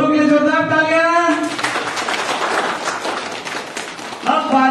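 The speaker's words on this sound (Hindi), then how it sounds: "शुरू करने के पहले दोनों के लिए जोरदार तालियां" A crowd claps loudly for two presenters at a training session, a dense burst of applause lasting about three seconds between stretches of a voice.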